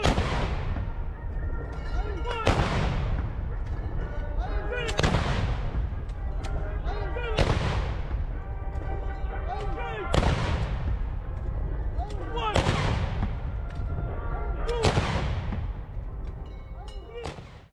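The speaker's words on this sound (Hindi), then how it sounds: "26 जनवरी को दी जाने वाली तोपों की सलामी से पहले अभ्यास जारी है।" Indigenous artillery guns fire a ceremonial salute rehearsal for 26 January in Ayodhya, India: seven heavy, booming blasts spaced roughly two and a half seconds apart, each with a long rolling decay, loud and close over constant background rumble and faint crowd noise.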